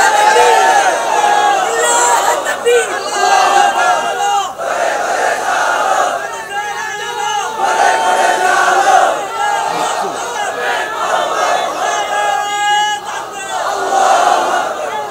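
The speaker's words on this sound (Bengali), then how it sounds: "এখন তাকবীর দেওয়া দরকার, জোরে তাকবীর দেন।" A large crowd at a Islamic religious gathering shouts a rhythmic takbir chant in loud, repeated waves of massed voices that carry on throughout.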